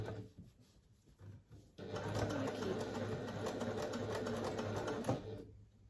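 A sewing machine back-stitches a fabric pouch; after a short quiet lead-in with faint handling, a close, steady rapid stitching hum starts and runs on, ending with a brief knock.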